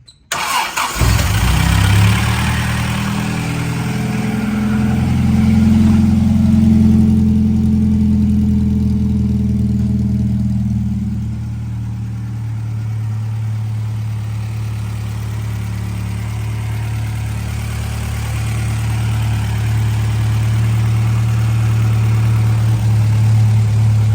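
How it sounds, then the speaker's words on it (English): A BN1 100/4 car engine cold-starts with a quick crank, catches and settles into a steady, loud, low-pitched idle that sags slightly partway through, with no voices over it. "Cold start, nice and cold."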